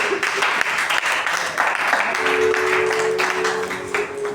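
A church congregation applauds during a French-language sermon, a steady wash of clapping that fills the whole clip, with a sustained tone joining in partway through.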